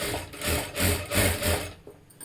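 A sewing machine stitches a fabric strip (patti) in four or five rhythmic swells of whirring and rubbing, moderately close, then slows and stops with no talking.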